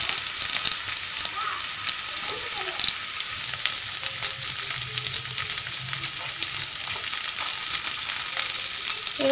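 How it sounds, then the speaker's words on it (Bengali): Cauliflower drops into potatoes and carrots frying in spices over low flame, with a steady loud sizzle, scattered spatula stirring and crackles, close by and free of talk. "এবার আমি ফুলকপিগুলো দিয়ে দেবো।"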